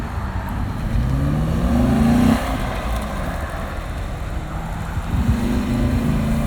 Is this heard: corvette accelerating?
yes